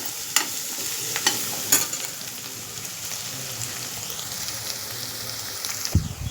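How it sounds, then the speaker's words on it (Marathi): Red masala and coriander powder sautéing in a pan, a soft steady sizzle with several sharp spoon scrapes and taps at irregular intervals, fairly close and without talk. "मसाला परतून घ्यायचा आहे परत."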